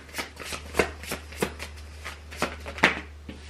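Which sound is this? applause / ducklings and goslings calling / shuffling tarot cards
shuffling tarot cards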